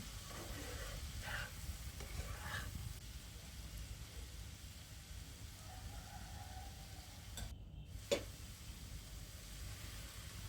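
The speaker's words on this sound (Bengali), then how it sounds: "ভাজিটা একটু নেড়ে চেড়ে দিচ্ছি" Vegetable bhaji stirred in a pan while cooking a Bengali bhorta meal, a steady low sizzle with soft scraping strokes early on and one brief sharp clack near the end.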